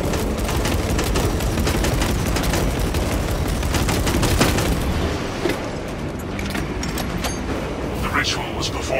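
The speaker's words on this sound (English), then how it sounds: "Ace releasing frag grenades." Frag grenades and heavy gunfire erupt in a Warhammer 40k Space Marine battle, a dense, continuous barrage of booms and shots for several seconds that eases toward the end, with voices talking over the fighting.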